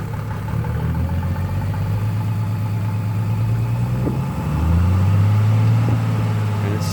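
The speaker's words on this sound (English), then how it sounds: "You want to hear the turbo a little bit." A 1993 Mercedes 300SD turbo diesel engine, smoking, runs at a steady drone, then its pitch lifts slightly as the turbo spools up, low and continuous throughout.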